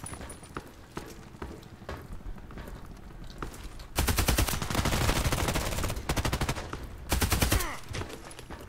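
Rapid automatic gunfire from a Contract Wars first-person shooter match, loud sustained bursts of several seconds each with short gaps between, following quieter scattered shots and background game noise.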